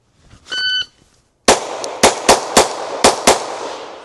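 Six sharp Glock 34 pistol shots ring out loud and close in an uneven string, each crack trailing a short echo, after a brief electronic beep.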